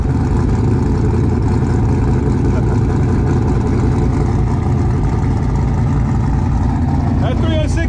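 A Kenne Bell supercharged Saleen clone with an old-school pushrod V8 runs loud and close, a dense continuous engine roar that holds steady throughout, with voices nearby under it.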